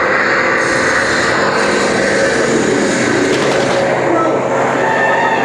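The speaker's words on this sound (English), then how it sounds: "Sounds like enemy fighters at 10 o'clock." A loud, continuous roar of fighter plane engines approaching in a flyby fills the whole stretch, steady and close, with no pauses.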